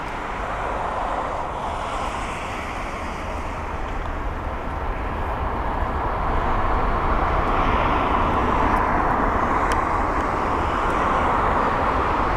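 An airliner, such as a British Airways A319 or Royal Air Maroc 737 MAX, passes at London Heathrow with a broad, steady jet roar that swells slightly in the second half and holds loud throughout.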